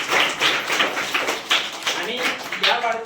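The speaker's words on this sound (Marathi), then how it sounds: "आपण सर्वांनी टाळ्या वाजवतो" An audience claps at a child's birthday celebration in Maharashtra, a steady patter of many hands with rhythmic peaks throughout, close and moderately loud.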